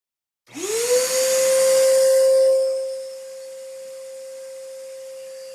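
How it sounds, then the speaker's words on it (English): A Shop-Vac fitted with a muffler starts up with a rising whine, roars briefly, then settles into a steady, softer drone with a clear sustained tone, heard alone without talk. "So now we've got our muffler from our other build installed."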